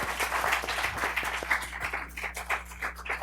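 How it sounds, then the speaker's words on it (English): A round of applause for panelists at a social and political action forum, a smaller group clapping in a loose, uneven patter over a low steady hum. "Let's have a round of applause for our hardworking panelists."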